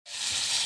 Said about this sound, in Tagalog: malapit na tayong matapos ng prito